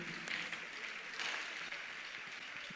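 A church congregation applauds during a French-language sermon, a steady wash of clapping that fills the room at moderate level without pause.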